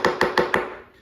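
Four quick knife taps on a cutting board, evenly spaced and close, the last one fading into quiet.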